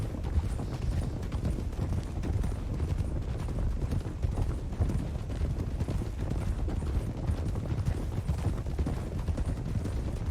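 Hooves clip-clop steadily on hard ground amid a low, continuous rumble, several horses plodding along at a slow walk.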